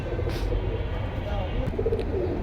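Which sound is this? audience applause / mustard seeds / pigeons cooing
pigeons cooing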